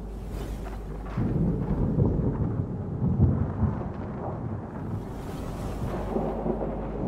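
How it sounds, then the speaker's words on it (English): Deep rumbling thunder in a video game played with the Easy Mode Modpack rolls on continuously for several seconds, with a broad low roar that swells and recedes like a nearby storm. "Thunder's actually getting more boisterous."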